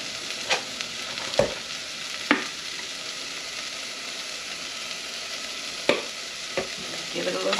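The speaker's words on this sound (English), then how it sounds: "Give it a little stir." Vegetables for baked beans, seasoned with salt and pepper, sizzle steadily in a pan while a utensil stirs them, with a few sharp scrapes and clinks standing out against the constant hiss.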